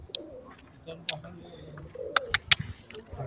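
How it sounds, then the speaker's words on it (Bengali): Pigeons coo near Jabal al-Nour by the Cave of Hira in Makkah, soft low calls mixed with a few brief sharp chirps against outdoor background noise, moderately close. "এই কবুতর ছাও এদিকে আসছে সোনারা"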